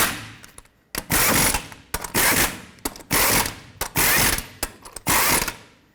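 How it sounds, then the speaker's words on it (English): Ratchet snugging up the lug nuts on a 2007-14 Chevy Silverado wheel during a front caliper replacement, with bursts of rapid clicking separated by short pauses, close and loud with no talking. "You want to start on all your lug nuts. You're going to snug them up"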